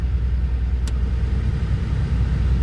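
A Daewoo Lanos heater blower motor running hard at nearly 13 volts, giving a loud, steady whooshing roar with a low motor hum that never lets up.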